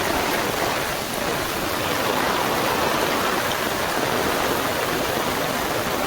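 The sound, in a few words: heavy rain falling during monsoon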